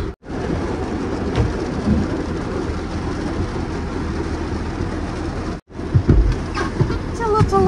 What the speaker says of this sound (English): अब तो बहुत बारिश हो रहा है